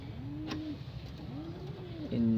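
Racing pigeons coo softly in a loft, two rounded rising-and-falling coos followed by a brief louder call at the end, fairly close and quiet with no talking.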